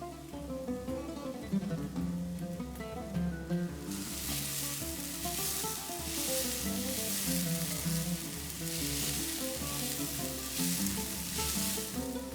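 Minced garlic and a large bay leaf drop into a hot pan, and a loud, close sizzle swells in partway through and then holds steady over faint background sound.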